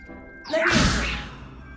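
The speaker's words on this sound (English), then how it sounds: "Now, see that dummy? Just toss the cabbages at it, and they'll do the rest." In a Harry Potter video game, Chinese chomping cabbages are tossed at a dummy: a single burst of crunching, thrashing impact noise that swells and fades over about a second, with no talk.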